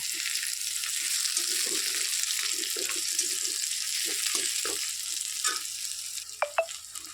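Onions fry in a pan with a steady, fairly quiet sizzle, broken by soft repeated stirring scrapes and a couple of sharp clinks near the end.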